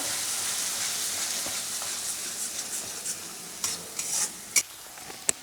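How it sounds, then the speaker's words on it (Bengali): Onion and turmeric masala frying in a pan, a steady hissing sizzle under repeated spatula scrapes and taps that grow sharper and more spaced toward the end, close up with no talking. "হলুদ গুঁড়ো দিয়ে এবার পেঁয়াজ ছাড়া অবধি ভালো করে কষিয়ে নেব"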